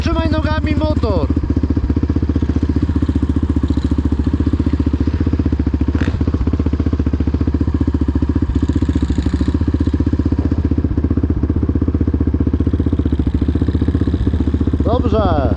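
An MRF 80 pit bike engine running steadily, a loud, close, buzzy putter with a constant rapid pulse, while voices talk faintly over it.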